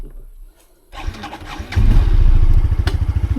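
Yamaha PG-1 motorcycle engine starting up and then settling into a near, steady, pulsing idle as it is shifted into first gear.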